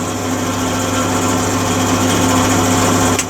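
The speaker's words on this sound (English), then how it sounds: "as soon as I turn this welder on, it's going to make a bit of noise." An old SIP MIG welder runs with a steady electrical hum and buzz, close and continuous at an even level, with a brief click near the end.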